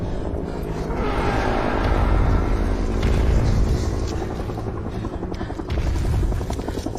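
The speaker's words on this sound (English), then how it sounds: "Who do you think's flying that helicopter?" A loud helicopter thumps and roars steadily overhead, with a deep rumbling drone that swells and fades slightly throughout.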